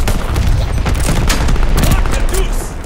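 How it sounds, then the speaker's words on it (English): Friendly mortar fire in the World War II shooter Vanguard rumbles as a dense, continuous barrage of booms and crackling blasts throughout, loud and close, with no break. "Friendly mortar fire coming."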